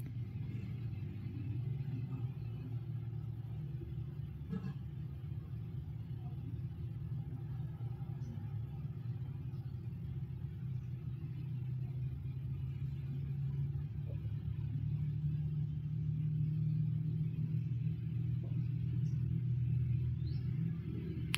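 A sewing machine runs a long, continuous stitch down a palazzo pant seam, a steady low motor hum that holds unbroken at the same level throughout.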